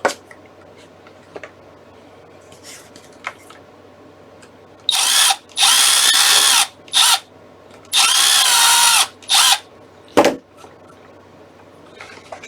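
A power drill drills holes in a Baby Yoda puppet build, whirring in several bursts of varying length, loud and close, with a few clicks and handling knocks between runs.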